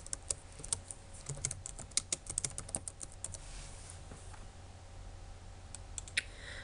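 Computer keyboard typing with mouse clicks while setting up a folder, a quick uneven burst of close key taps and clicks that thins out into a quiet room hush, with a couple of final clicks.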